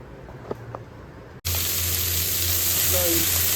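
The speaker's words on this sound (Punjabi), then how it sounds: "ਕੜਾਈ ਪਾ ਕੇ ਆਪਣਾ ਪਿਆਜ਼ ਵਿੱਚ ਸ਼ਿਮਲਾ ਮਿਰਚਾਂ ਬਹੁਤ ਜ਼ਿਆਦਾ ਨਹੀਂ ਆਪਾਂ ਨੇ ਇਹਨਾਂ ਨੂੰ ਫਰਾਈ ਕਰਨਾ" Onion and capsicum frying in a kadai, a steady loud sizzle that starts abruptly partway through and continues to the end, following a quieter stretch with a few faint knocks.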